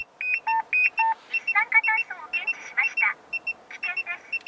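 A carbon monoxide detector alarm sounds several bursts of short electronic beeps, loud and close, in quick uneven groups. Some are single tones and some are rapid warbling pulses. There is no talking.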